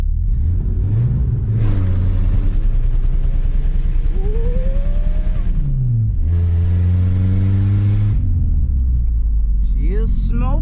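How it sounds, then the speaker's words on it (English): A Chevy S10 drift truck revs hard in two long sustained bursts with rising engine pitch, loud and close, dropping back to a rumbling idle between pulls and finishing with a brief rev at the end. "Will it do a burnout?"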